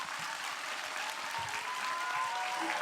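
Steady applause from a large audience welcoming a speaker at a talk concert, dense and sustained clapping filling the room for about three seconds with no talk over it.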